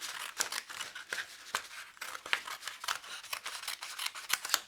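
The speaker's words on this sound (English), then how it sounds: "Cut myself a bit off that piece there" Scissors snip through a piece of craft paper in a quick, fairly regular series of close, crisp cuts, quiet overall with no talking.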